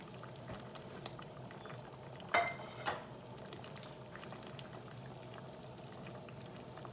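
Fish curry simmering in gravy in a home kitchen in Odisha, a steady soft bubbling hiss throughout with two brief clinks near the middle, no voices.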